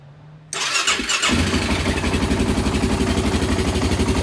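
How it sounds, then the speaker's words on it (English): Honda TRX700XX ATV engine cranking and firing up after a fuel filter replacement, then settling into a loud, steady, rapid idle close to the microphone. "Let's see if she'll fire up."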